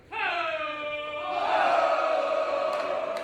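Wrestling crowd barking and honking like seals, a sustained tonal group wail that rises and grows louder midway, with a couple of sharp claps near the end.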